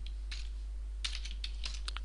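Keys clatter on a computer keyboard as MATLAB code gets typed, in short bursts of quick taps with pauses between, close and fairly clear, with no voices.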